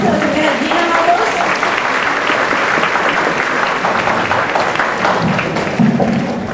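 Sustained applause from a gathered audience greets a singer, a loud continuous wash of clapping from many people that holds steady, with a few voices faintly mixed in.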